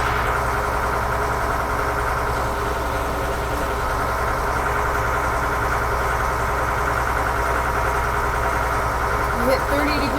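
Tractor engine running steadily while raking hay on a hot, windy day, a constant close drone with cab rumble, under occasional talk.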